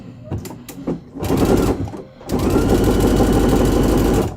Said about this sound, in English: We are sewing some fun sweaters and sweatpants.